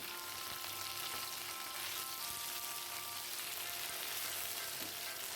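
Capsicum pieces fry in hot oil for a shahi paneer, a steady, dense sizzle that runs unbroken and fairly close, with faint low scrapes of stirring underneath.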